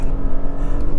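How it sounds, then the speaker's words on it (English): The exhaust of a 2023 Audi SQ5 Sportback snarls under full-throttle kickdown, a brief, loud, deep engine roar heard from close by. "after the kickdown, I get a nice snarl from the exhaust and really good pull from this motor"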